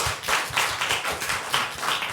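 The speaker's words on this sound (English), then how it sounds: "once again, give them a round of applause," Audience applause closing a talk session on restorative justice, a smaller group clapping in a slightly uneven rhythm with individual claps standing out, fairly close and continuous.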